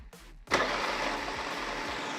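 A Double E E101 Defender 1/8 scale RC crawler's electric motor whirs up in fast gear, a brief tick and then a sharp onset into a steady close whine that holds with slight pulsing, with no talking.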